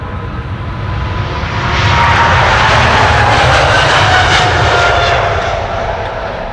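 A KLM airliner bound for Johannesburg, a Boeing about seven years old, passes at Amsterdam Schiphol Airport with a loud, steady roar of jet engines that swells to a peak in the middle and holds broad and strong throughout.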